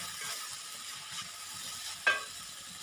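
Pineapple fried rice frying in a pan, a soft continuous sizzle with faint stirring, broken by a single sharp utensil tap near the end.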